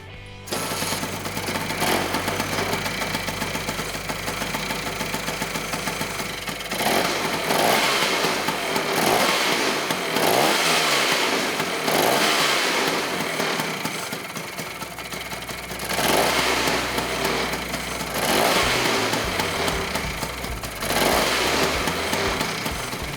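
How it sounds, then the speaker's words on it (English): Vespa Rally 200 scooter, freshly rebuilt, starting and running close by: a buzzy two-stroke engine idling unevenly, revving up and dropping back several times in a rising and falling pattern. "And now it was time to see if it started up."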